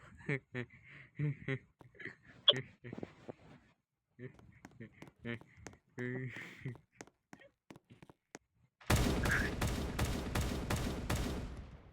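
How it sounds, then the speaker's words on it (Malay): Rapid burst of toy pistol fire in a Roblox game, about eight loud sharp cracks in quick succession near the end, following stretches of people talking. "Kita keluarkan pistol mainan dia lu"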